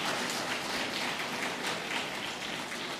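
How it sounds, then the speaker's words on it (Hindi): Audience applause at a Ram Katha discourse, dense, even clapping from a large crowd sustained without a break, steady and moderately loud. "तो ताली और जोर से बजाइए"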